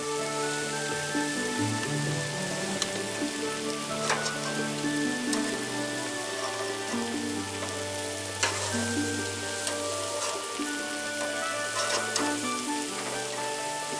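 Steady, close sizzling and crackling of pizza frying on a hot grill, with scattered pops over a continuous hiss.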